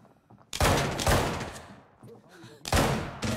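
Bursts of rapid gunfire in the Arena Breakout shooter game, two loud close volleys separated by a quieter gap with faint mechanical clatter.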